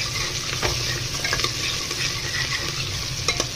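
Onions fry in a pan with a steady sizzle while a utensil stirs them in light scraping strokes, close and alone.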